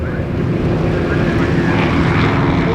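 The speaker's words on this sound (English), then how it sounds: "it's what we call a plastic aeroplane, so it's all composite" Aerobatic all-composite aeroplane with a stainless steel fuselage frame and a 400 hp nine-cylinder radial engine, heard at an air show as a steady, loud propeller drone that holds throughout with slight wind buffeting.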